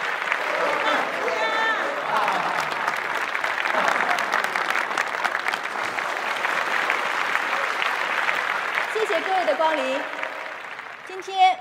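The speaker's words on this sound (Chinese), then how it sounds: "鼓掌鼓掌" An audience claps for a long, steady stretch of dense applause that holds throughout, with a voice speaking briefly near the end.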